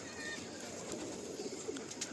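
Pigeons in a large loft in West Bengal coo softly and continuously, a quiet, distant murmur of overlapping calls.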